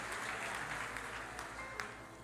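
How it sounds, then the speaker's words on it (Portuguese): A church congregation at a Portuguese-language evangelical service claps for Jesus, a soft, distant wash of many hands applauding steadily over a low background hum. "dando a Jesus uma linda salva de palmas"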